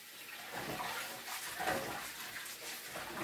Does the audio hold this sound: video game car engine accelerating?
no